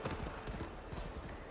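Horse hooves galloping in Assassin's Creed Valhalla, a fast, rhythmic clip-clop of hoofbeats on the ground, close and steady, with faint background ambience.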